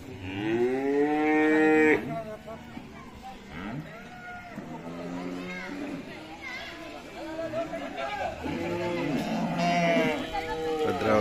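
Decorated cattle with colourful balloons at a village livestock gathering in Gonibidu, Bhadravathi, Shivamogga, mooing loudly and repeatedly in long drawn-out calls, with crowd chatter and voices underneath throughout.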